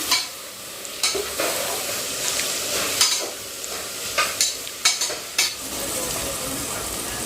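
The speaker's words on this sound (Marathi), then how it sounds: "आता त्याला छान परतून घेणार आहे मी" Grated coconut and curry leaves sautéed in a pan for Khandeshi kadhi, a continuous close sizzle punctuated by repeated spatula scrapes and taps against the pan.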